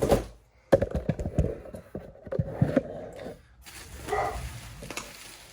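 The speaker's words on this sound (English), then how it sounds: "my dogs are barking" Dogs bark in short bursts somewhere nearby, mixed with thumps and rustling, then a softer, noisier stretch near the end.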